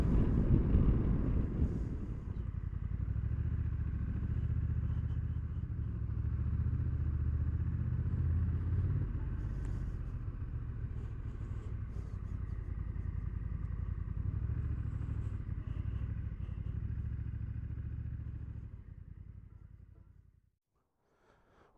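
Honda NT1100 DCT motorcycle ridden along a road, a steady low engine drone mixed with rushing wind buffeting the microphone, holding for most of the ride before slowing and fading to near silence at the end.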